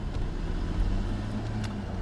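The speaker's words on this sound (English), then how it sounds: "It idles nicely." A 1990 Mercedes-Benz 300SE idles quietly, giving a low, steady engine hum with a faint, even rumble and no voices.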